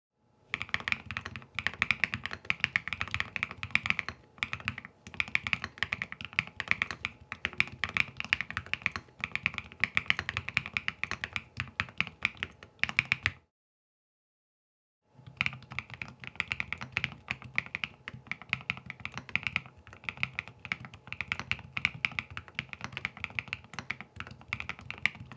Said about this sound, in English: Let me give you a quick sample of what the assembled keyboard sounds like.